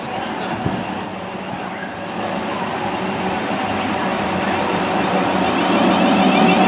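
A train pulling into a platform after running in from London Waterloo on a south-coast line, its steady rumble and rail noise growing louder and closer throughout, with faint voices in the background.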